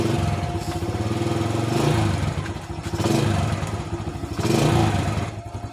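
A 2005 Yamaha Jupiter Z motorcycle engine starts and idles close by, a steady, slightly rough putter with several small surges in revs, and no talking over it.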